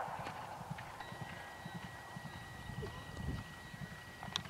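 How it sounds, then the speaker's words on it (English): Hooves thud in a rapid, irregular rhythm, fairly faint against open-air background noise, as a nine-year-old Irish sport horse gallops at speed on an eventing cross-country course. "9-year-old Irish sport horse"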